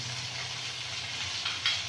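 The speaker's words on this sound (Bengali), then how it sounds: "ডিমটা দিয়ে ভালো করে নাড়তে থাকবো" Egg frying in a pan after cumin powder, a close, continuous sizzle with a brief scrape or clink of stirring near the end.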